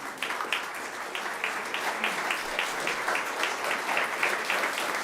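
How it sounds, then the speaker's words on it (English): Steady, dense applause from a crowd, many hands clapping continuously for several seconds without a break. "They deserve every clap."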